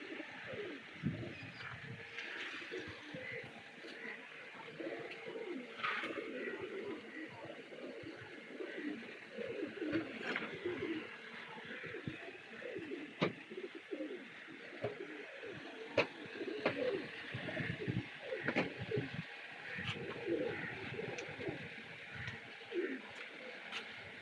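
Madrazi pigeons coo repeatedly in low, soft burbling calls over a steady outdoor background, with occasional faint chirps from other birds, continuous and moderately close.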